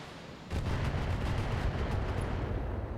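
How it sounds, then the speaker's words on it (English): Turrets firing in the Battletech video game, a steady series of heavy booming shots in rapid succession over a dense roaring battle backdrop, loud and continuous. "That must be turrets firing."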